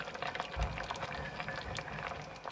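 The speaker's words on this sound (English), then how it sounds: "Marmalade's bubbling nicely." A pot of marmalade boils on a boat's stove, giving soft, close bubbling and popping with small irregular blips and low gurgles, faint and steady.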